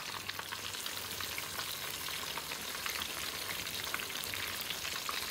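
Banana pieces in jackfruit batter with honey frying in oil, a soft, even crackle and bubbling sizzle with faint stirring, steady and fairly quiet from start to finish.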